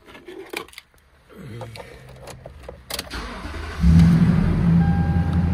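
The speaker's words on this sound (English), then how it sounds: "The engine just sounds like new." A 2007 Toyota Tundra Regular Cab 4x4 pickup engine cranks over and catches, then settles into a steady, loud running rumble after a few quiet clicks and knocks.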